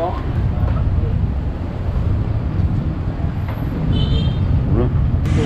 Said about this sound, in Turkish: Araba bu.